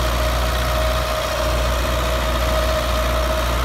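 A Belarus 510 tractor engine idles steadily with a deep, continuous rumble and a constant tonal hum, loud and close, with no talk.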